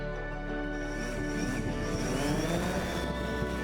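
A drone used by Fredericton High School students for water-quality monitoring flies over a wetland, giving a steady, close, buzzing rotor whine with tonal harmonics that holds throughout, with no voices.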